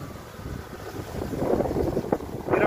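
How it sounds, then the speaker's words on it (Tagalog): Strong wind buffets the microphone on an open diversion road, a low rumbling gusty roar that swells and surges in bursts. "ang lakas ng hangin eh"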